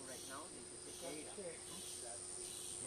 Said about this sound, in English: That sound that we hear right now is the cicada.